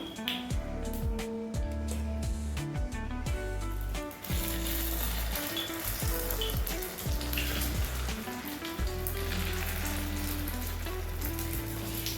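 Sorghum batter hits a hot pan for paniyaram, idli or dosa, giving a steady, close sizzle that keeps going with crackling bursts and no talk over it.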